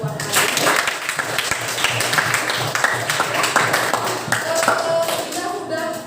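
Schoolchildren in a classroom clap together in a steady, dense burst of applause lasting several seconds, mixed with scattered voices and chatter throughout.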